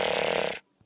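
One loud, rasping snore from a heavyset woman, harsh and close, lasting about half a second before breaking off, followed by a faint short breath.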